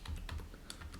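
Numbers keyed into a calculator, a quick run of soft, close button taps over about a second, with no talk.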